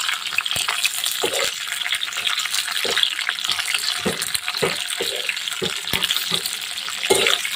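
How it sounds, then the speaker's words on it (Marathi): Green chillies fry in oil for a lemon-chilli recipe, giving a continuous close sizzle with a bubbly crackle. Regular scraping stir strokes sound about every half second, and there is no talk. "मिरचीसुद्धा छान अशी भाजून घ्यायची तेलामध्ये दोन ते तीन मिनटं"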